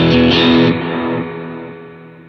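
An electric guitar played into a Positive Grid Riff audio interface during autogain calibration rings out as one loud, distorted chord that slowly decays, alone and close.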